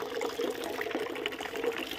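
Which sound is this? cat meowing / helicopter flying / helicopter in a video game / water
water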